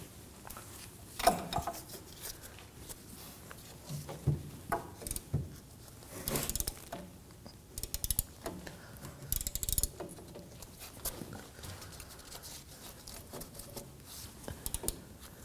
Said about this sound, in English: Remove the bolt.